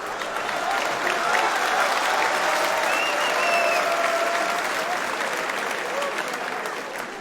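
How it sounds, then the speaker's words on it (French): A packed room at a French stage comedy show gives a loud, sustained round of applause, continuous clapping with a few whistles and crowd noise riding on top for several seconds. "On peut l'applaudir"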